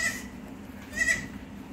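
Goats, including a young kid, bleat twice on a farm, each short wavering call standing out over quiet background.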